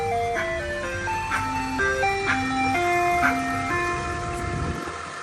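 An ice cream truck jingle plays from an outdoor speaker mounted on a vehicle, a steady looping melody of clear electronic tones carrying on continuously without talk.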